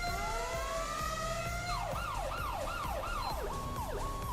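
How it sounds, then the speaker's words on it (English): Ambulance siren in an emergency response video game, a steady high wail that switches into a rapid rising-falling yelp cycle, loud and continuous against a dense background hum. "This is more apt for an ambulance siren"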